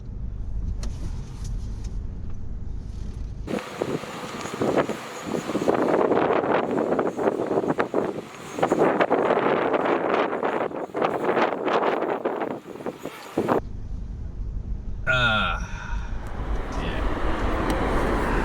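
A Mercedes GLE300d in off-road mode climbs a hill, its engine and tyres rumbling loudly with heavy wind buffeting across the microphone, the noise rising and falling in bursts.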